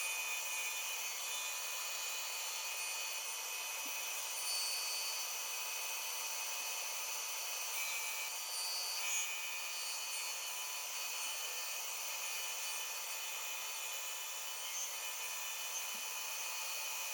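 Bandsaw cutting through two taped-together pieces of scrap wood at once, a steady high whining buzz with a constant motor hum running evenly and loudly throughout, no talking.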